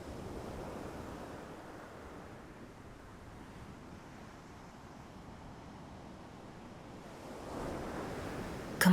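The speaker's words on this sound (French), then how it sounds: "vous entendez ce bruit rassurant de la mer," Ocean waves breaking on a shore, a continuous soft roar of surf with a gentle swell that rises again near the end, heard alone without voices.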